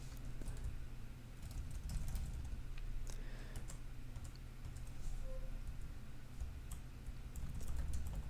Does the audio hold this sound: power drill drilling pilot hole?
no